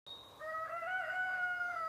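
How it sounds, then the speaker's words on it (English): A rooster crows at dawn across an open field, one long drawn-out call rising and holding steady, fairly close and clear against a quiet background with no other sounds. "One rooster shatters the silence, and moments later, another answers from across the field."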